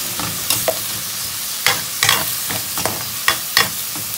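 Tomatoes sautéing in a pan for chicken afritada, a steady sizzle broken by sharp spatula scrapes and stirring clatters every second or so, close and fairly loud, no voices.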